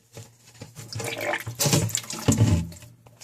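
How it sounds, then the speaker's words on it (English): Water poured into a refrigerator's clogged drain line, running and gurgling for a few seconds in bursts, fairly close with no talk over it. "now we put some water."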